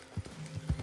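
Horse hooves galloping in the video game Red Dead Redemption 2, a few quick dull thuds in a rough running rhythm, faint and brief.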